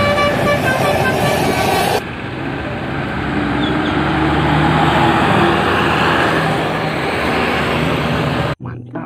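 New Shantika bus sounding its telolet horn: a loud, stacked musical toot held for about two seconds, then an engine rumble and road noise that carry on until a sharp cut near the end.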